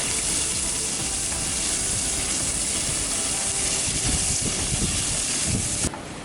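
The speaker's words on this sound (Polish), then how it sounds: "Ale elegancko skwierczy." Steady, loud sizzling of bacon frying in a pan, a dense crackling hiss with popping spatters, cutting off abruptly near the end.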